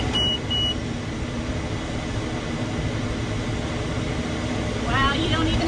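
A hay baler making round rolls of hay gives two short, clear beeps near the start to signal it is full, over a steady, loud engine drone.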